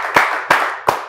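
Three sharp hand claps from a small interview audience, evenly spaced roughly a third of a second apart, crisp and close with no talk.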